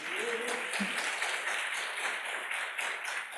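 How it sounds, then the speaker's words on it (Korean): Applause from attendees at a university lifelong-learning case-sharing event in a hall, a fairly quiet, continuous wash of clapping with a brief tone near the start. "큰 박수로 대학을 대표하는 멘트니까 들어보시고 박수 부탁드립니다"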